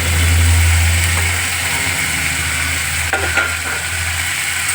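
Small chunopunti fish fry in a pan with a loud, continuous sizzle, a low steady hum beneath and a couple of brief clinks near the end.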